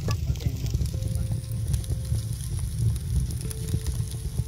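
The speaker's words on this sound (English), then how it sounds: "The fire has started, and it's coming out of the oven furnace." Crackling fire burning inside an oven furnace in the VR game CyubeVR, a steady low rumbling roar with soft sizzling and faint tonal game sounds layered on top, continuous and fairly close.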